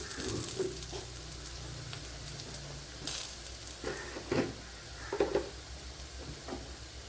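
Masala frying in a pan for green mango pulissery, a steady close sizzle with a few louder stirring scrapes and crackles, no talking.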